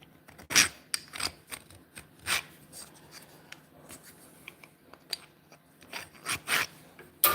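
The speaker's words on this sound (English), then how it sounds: "So we're just cutting mortises in the center there." Hand-cut mortises being chopped and pared in wood at a workshop bench, with irregular sharp scraping and rasping strokes, some louder bursts, close and without talk.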